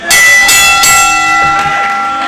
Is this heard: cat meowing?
no